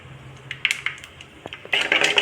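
Small fenugreek and mustard seeds hit a hot pan with brief crackles and light clinks, followed by a louder, denser sizzle as they fry, all close and without talk.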